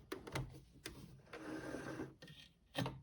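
A sewing machine stitches right along the folded edge of a fabric dart, giving a short close whirring run between a few soft knocks and handling sounds.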